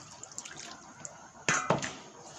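A little water is poured into a pot of ground paste for a lentil curry, a short splashing pour at about one and a half seconds after faint drips, alone with no talk.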